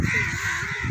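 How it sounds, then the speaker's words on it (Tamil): Crows cawing loudly and close by near a fish farm, a quick burst of harsh repeated calls over about a second with outdoor background noise. "என்னது காக்கா?"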